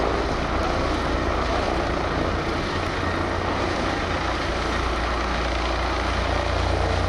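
A steady, loud drone of tiltrotor aircraft engines and rotors roars continuously without a break as it flies overhead at the 2022 Jesolo Air Show.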